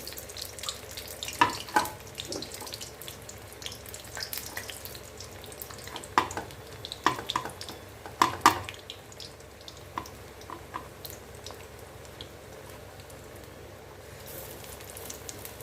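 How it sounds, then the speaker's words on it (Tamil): Masala vada patties being dropped one at a time into hot oil, bubbling and sizzling at a low, steady level, with a few louder splashy bursts and no talk. "எண்ணெய் காஞ்சிருச்சு தட்டி வச்ச வடைகளை ஒவ்வொன்றா நம்ம சேர்த்துக்கலாம்"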